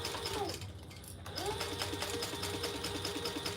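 A sewing machine bastes fabric with variegated purple Tex 45 thread, running in quick, rhythmic bursts with a short pause between runs, close by and fairly quiet.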